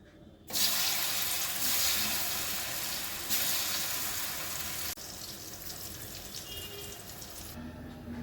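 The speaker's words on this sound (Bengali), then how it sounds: "ধোকাগুলো আমি বানিয়ে নিয়েছি, এবার আমি ভেজে নিচ্ছি।" Elephant foot yam dhoka cakes frying in hot oil, starting with a sudden loud hiss as they drop in, then a steady, dense sizzle that eases slightly in intensity, close and with no talk.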